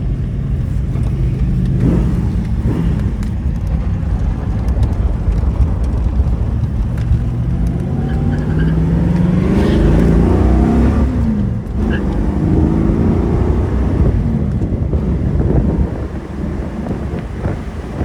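A 1969 Ford Mustang Shelby GT350 tribute convertible drives along with a steady engine rumble that builds as it accelerates, heavy wind buffeting the microphone throughout.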